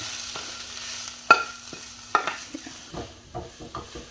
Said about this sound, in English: I'm just going to move over and transfer this into a bigger pan.